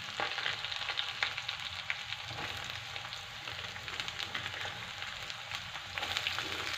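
Chopped onions sizzle steadily in a hot pan alongside garlic, chilli and ginger for an aloo matar methi curry, a soft continuous crackle with occasional stirring and no talk.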